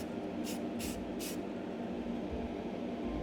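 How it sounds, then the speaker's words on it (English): Three short hissing bursts of Rust-Oleum spray paint from an aerosol can in a spray booth, evenly spaced in the first second and a half, over a steady ventilation drone. "I'm going to just start painting these down."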